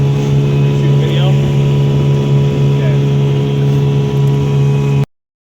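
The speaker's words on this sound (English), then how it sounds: "Having the motor on the boat has really been great." A small boat with a 6 horsepower outboard motor runs steadily nearby, a constant droning hum with faint voices over it, cutting off abruptly near the end.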